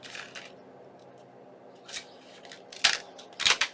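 Paper being trimmed to size on a cutting mat, a few short crisp cuts near the end over quiet rustling handling.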